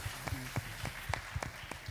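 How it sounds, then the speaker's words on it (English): A church congregation at an evening service claps in scattered, individual hand claps about every quarter second, faint and sparse, with no talk over it. "Can you acknowledge that by clapping your hands?"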